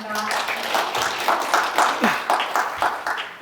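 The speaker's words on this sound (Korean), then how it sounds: "큰 박수 부탁드립니다." At an ESG management session of an annual conference, the audience gives a short, moderate round of applause with a pulsing, rhythmic feel, and voices mix in under the clapping.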